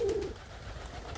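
A single short coo from a kept flock of loft pigeons in Poland, close by at the start. Quiet ambient noise follows.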